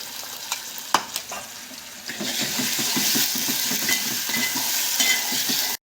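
A spoon stirs through sizzling fish and green masala in a frying pan, with a few sharp metal clinks early on, then a steady hissing fry carrying soft scraping strokes.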